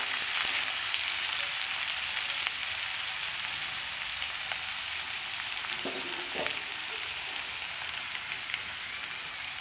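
Onion frying in white or mustard oil in a pan, a steady, dense, bright sizzle running throughout at close range, with a couple of faint clinks of a utensil partway through.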